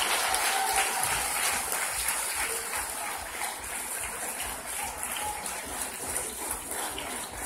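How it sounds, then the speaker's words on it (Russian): Sustained audience applause at a theatre curtain call for the musical 'Diamonds and Love', dense and steady for the whole stretch, with no voices over it. "Хотелось бы ее видеть и искупать ее в овациях."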